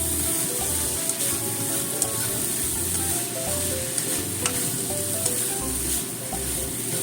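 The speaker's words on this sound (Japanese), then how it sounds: "そしてあとこれをね炒めますよ。" Sweet potato kinpira stir-frying in a pan with a splash of water and soy sauce, a steady bright sizzle with scraping stir strokes throughout, close and continuous without talk.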